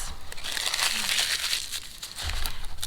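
Wax paper is torn off and wadded up by hand, a close continuous crinkling and crumpling with sharp crackles, loudest in the middle and ending with a few crushing pulses.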